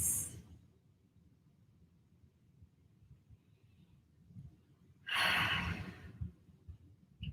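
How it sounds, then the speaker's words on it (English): Slow, calm breaths during a seated relaxation exercise: a soft exhale at the very start, a long quiet pause, then a fuller, louder breath near the end, heard close and alone with no talking. "breathing in and out at our own pace"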